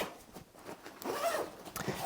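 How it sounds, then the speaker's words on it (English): Big zippers on a heavy-duty canvas tool roll are pulled open in a few short rasping strokes, close and moderately loud, with a longer zip in the middle. "this thing has this kind of heavy-duty canvas, big zippers on the outside, big clasps everywhere, but it's actually a substantial tool roll"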